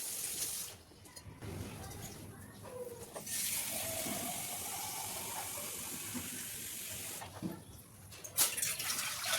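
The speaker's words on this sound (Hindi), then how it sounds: "इसी लोटे से हम 2 लोटा पानी डाल के रख देंगे उबलने के लिए" Water pours steadily from a lota into a pot for several seconds with a gurgling, splashing flow, close by, with brief pauses and some clatter at the start and end.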